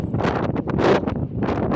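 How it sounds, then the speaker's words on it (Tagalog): Very strong wind buffets the microphone at a seaside rock formation, a loud continuous roar that surges and dips in gusts throughout. "Sobrang lakas ng hangin pala dito."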